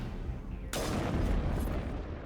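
A sudden loud blast in the Mass Effect video game, set on Noveria, bursts in and rolls into a sustained rumbling roar that carries on to the end.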